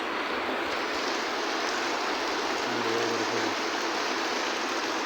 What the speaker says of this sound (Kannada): ಆ ಥರ ಮಳೆ ಬಂದಿದೆ ಮುಂಗಾರು ಮಳೆ ಅಂದರೆ ಇದು